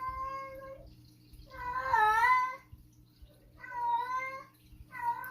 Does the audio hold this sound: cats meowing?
yes